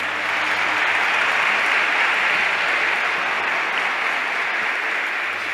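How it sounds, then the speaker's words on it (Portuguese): A church congregation breaks into steady, dense applause during a sermon, a full, even wash of clapping that carries on for the whole stretch. "uma salva de palmas"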